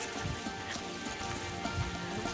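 Light rain falling in a Rajasthan village near a temple, a steady soft patter of drops on surfaces, faint and even throughout with no voices.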